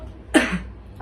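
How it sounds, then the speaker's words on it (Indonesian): A single short cough, close and fairly loud, from a young patient practicing effective coughing, followed by a faint trailing breath. "tarik nafas, turunin, tarik nafas, turunin, tarik nafas, baru batuk"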